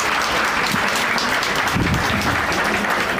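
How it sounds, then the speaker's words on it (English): A congregation at a thanksgiving service breaks into steady, dense applause, a full round of clapping filling the room for a few seconds. "let's give him a round of applause."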